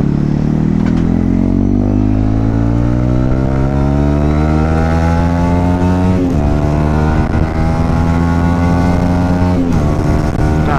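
A motorcycle engine drones steadily close by, its pitch rising and falling as the rider shifts through gears, with wind rush over it throughout.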